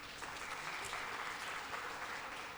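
Steady applause from an audience at a valedictory and prize distribution function, a dense wash of clapping held evenly for a few seconds, moderately distant.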